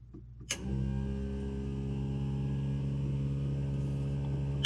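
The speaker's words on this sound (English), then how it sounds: "That's a huge, huge moment right now that the fuel pump turned on in test mode." A car's electric fuel pump switches on in CAN bus test mode, starting with a sharp click and then settling into a steady, close, even whine and hum that runs unchanged to the end.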